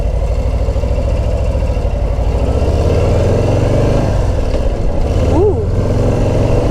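A Fat Bob or Low Rider ST motorcycle engine rumbles steadily and loudly while being ridden, a continuous deep drone with slight shifts in pitch.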